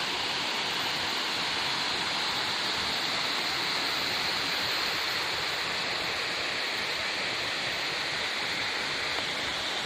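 A river with a waterfall at Curug Balong Kiara flows in a steady, dense rush of water, constant and fairly close, with no voices or other sounds.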